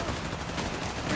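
Gunfire in the Company of Heroes 3 strategy game, a dense burst of rapid overlapping shots under a continuous noisy battle mix.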